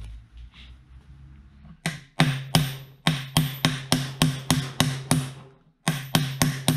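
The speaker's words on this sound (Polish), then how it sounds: "Więc muszę się wspomóc młoteczkiem." A small hammer taps a CV joint boot into place on a Toyota. It makes a series of sharp, close, evenly paced metallic knocks, about a dozen in all, with a brief pause before a final few strikes.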